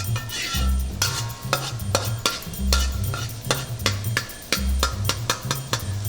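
Garlic and ginger are stirred in a hot pan for General Tso chicken, with a utensil scraping and clanking against the metal in quick bursts over a low sizzle and occasional dull thumps, close up.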